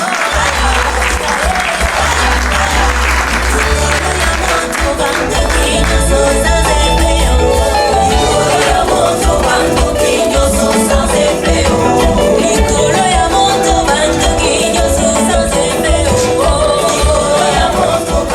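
Loud, sustained crowd applause at a 2018 charity gala as an association representative is welcomed, steady dense clapping lasting the whole stretch while upbeat music plays beneath it.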